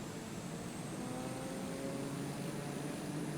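A propeller aircraft engine in Microsoft Flight Simulator 2020 drones steadily at runway 33 near Area 51, a continuous broad hum with faint tonal whine, even and unbroken throughout, no talk.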